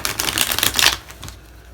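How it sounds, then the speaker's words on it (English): A rapid, crisp riffle of a tarot deck being shuffled, close and loud for about a second before trailing off into quiet. "Last shuffle, guys."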